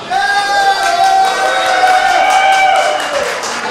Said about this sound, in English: let's give a round of applause for Miss Tara